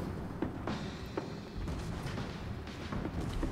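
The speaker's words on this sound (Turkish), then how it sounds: "bizim küçük toplar da vuruyor otomatik olarak" A warship's small secondary guns fire automatically in World of Warships, a series of faint, irregularly spaced booming shots over a low rumbling background.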